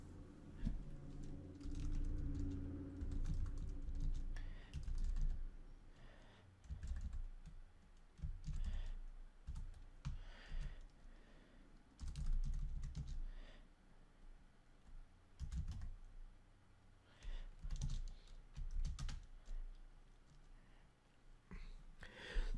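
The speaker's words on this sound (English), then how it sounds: "So let's type this out and see what it looks like." Computer keyboard keys click in irregular bursts of quick typing with short pauses between runs, close and fairly quiet, with no voices.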